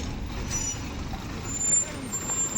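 Tipper truck easing down a steep dip at an unloading point, a steady low engine rumble with faint hissing, continuous and close.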